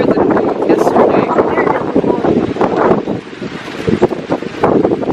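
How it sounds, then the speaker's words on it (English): Strong gusting wind during Hurricane Florence buffets the microphone outdoors near chicken houses, a loud roaring rush that swells and dips, with a person talking over it. "The wind is blowing into my face."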